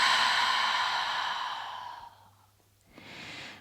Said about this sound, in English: And then exhaling it fully.